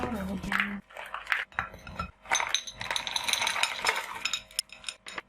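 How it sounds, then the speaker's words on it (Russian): Red currants are poured into a container sitting on a kitchen scale. They land in short bursts of light rattling and clinking, broken by brief pauses, close and fairly clear. "Подсыпаю до 200 грамм смородины."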